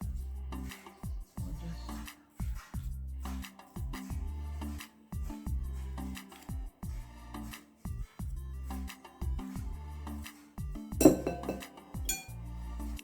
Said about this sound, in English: make sure you stir it until it's completely mixed